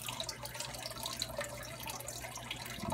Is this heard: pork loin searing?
no